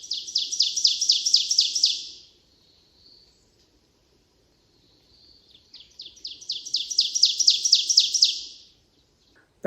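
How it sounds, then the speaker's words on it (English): Ovenbird singing on a wooded trail beside a field of hay-scented fern at Ricketts Glen, Pennsylvania: a loud, rapidly accelerating series of ringing two-note phrases lasting about two seconds, heard twice with a quiet pause between bursts. "That was just the loud call of an ovenbird."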